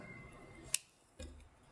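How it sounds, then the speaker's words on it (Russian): One crisp snip of scissors trimming excess threads from a sewn wedding dress seam, a sharp close click with a faint handling sound after, otherwise quiet. "Лишние нитки убираем ножницами"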